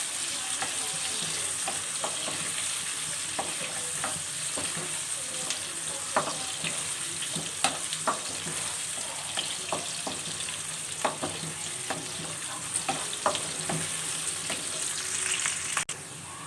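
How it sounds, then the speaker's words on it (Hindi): Onions frying in a pan for pea rice, a continuous soft sizzle with scattered clicks and scrapes of a spoon stirring, steady and fairly quiet throughout, with no talk. "प्याज को हम गोल्डन गोल्डन ब्राउन कर लेंगे।"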